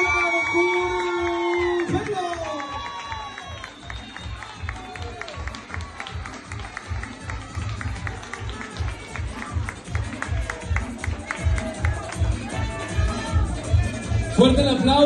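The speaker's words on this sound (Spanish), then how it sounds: "Fuerte el aplauso, por favor, que se escuche." A contest audience applauds and cheers for the winner: sustained, partly rhythmic clapping with whoops and crowd noise that swells louder toward the end.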